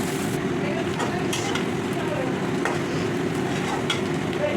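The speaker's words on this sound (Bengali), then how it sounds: "পেঁয়াজটা আমি একটু ব্রাউন করে ভেজে নেব" Finely chopped onion browns in oil, a steady sizzle with a low rumbling bubbling underneath and intermittent scrapes of a spoon stirring against the pan, close and constant.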